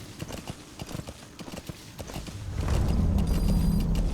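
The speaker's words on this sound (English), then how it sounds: "he'll just see a horse running along with no rider." Riderless horse in Metal Gear Solid V: The Phantom Pain, steady hoofbeats clip-clopping at a trot that swell into a louder, denser gallop with rumbling ground noise.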